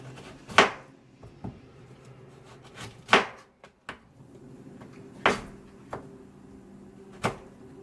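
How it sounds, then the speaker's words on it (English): Knife slicing a small amount of carrot on a board for bibimbap in a home kitchen: a handful of sharp, spaced cuts with quiet pauses between them, close and fairly soft. "to slice up some carrot to go with the bibimbap, right?"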